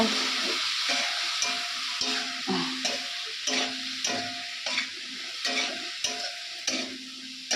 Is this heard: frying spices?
yes